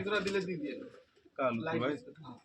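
Low, rolling pigeon coos in two short bursts, close by, with a brief quiet gap between them.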